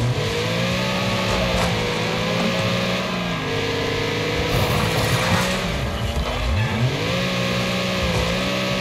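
A Panther RS race car in the Wreckfest video game roars through a rough dirt-track rumble race, its engine revving and shifting continuously and loudly with pitch rising and falling, plus occasional tire scrabble.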